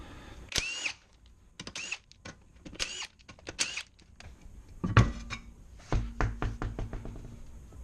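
Wheel coming off a 2002–2006 MINI Cooper R50/R53 in a garage: a series of sharp metallic knocks and clicks, scattered and close, followed by a few quick ratcheting taps toward the end.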